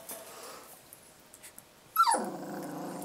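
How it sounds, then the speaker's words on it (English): Puppies fighting outdoors break into a sudden burst of growling and yipping midway, loud and close after a quiet, low-level stretch, with no talking. "my puppies outside are fighting"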